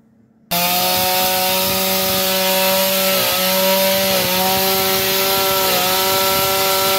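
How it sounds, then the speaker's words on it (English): A STIHL chainsaw with a smoking chain bursts to life after a moment of near silence and then runs loudly and steadily, its engine pitch dipping briefly a few times. "I'm going to start my chainsaw up"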